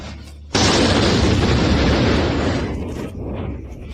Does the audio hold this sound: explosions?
yes